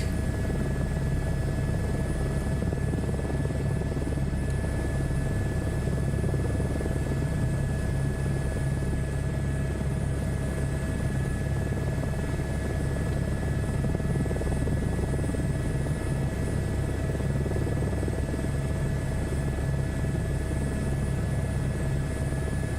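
A helicopter in Microsoft Flight Simulator 2024, flying a search and rescue job, holds a loud, steady rotor drone with a constant whine, unbroken and close for the whole stretch.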